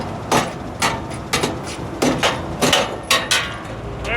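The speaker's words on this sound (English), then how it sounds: "Might need a hammer." A hammer strikes a truck part to free a stuck bolt, landing about nine sharp metallic blows in a steady rhythm, roughly two per second, close by.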